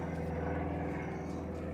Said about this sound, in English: Apologies about the airplane above.